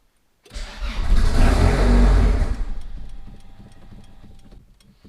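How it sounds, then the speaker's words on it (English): Turbocharged Honda car engine cranks and fires on its first startup, then revs loudly for about two seconds before settling into a rougher, quieter idle with light ticking, no speech. "I guess we'll just have to see if the car starts."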